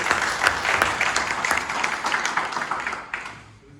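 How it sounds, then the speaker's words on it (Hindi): Audience claps at a political meeting in Ghaziyabad, with many hands clapping steadily and fairly close before the sound thins and fades toward the end. "जोरदार ताली हो जाए"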